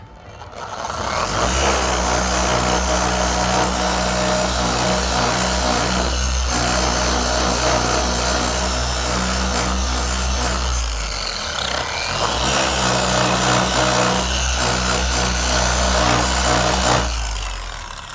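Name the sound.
power buffer polishing a car headlight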